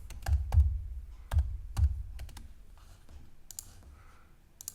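A computer keyboard being typed on while entering a word for a text animation in Adobe Animate: a few close, sharp key clicks in two brief bursts, followed by quieter scattered taps.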